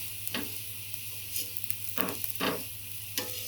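Spiced Kathiawadi dhebra flatbread roasting on a hot griddle over a full gas flame, giving a soft steady sizzle broken by a few sharp scraping and tapping clicks as it is turned, close and without talk.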